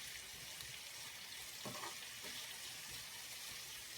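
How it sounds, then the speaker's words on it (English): Vegetables boiling in lightly salted water on a home kitchen stove: a faint, steady bubbling hiss with occasional soft pops, continuous and quiet throughout. "they're simply boiling in water, and I put a little bit of salt in that water"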